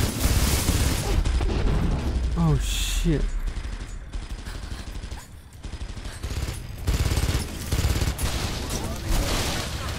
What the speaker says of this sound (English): Oh no, the chopper's shooting at me.